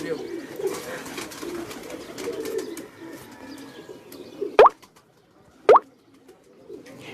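Pigeons coo in a low, continuous murmur on a rooftop, with two sharp, brief whistle-like bursts standing out near the end.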